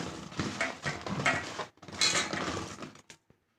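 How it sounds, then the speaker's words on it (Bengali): A metal wok (kadai) clatters onto a stove, a few seconds of close metallic scraping and clanking that stops abruptly into quiet. "কড়াই বসিয়ে দিলাম"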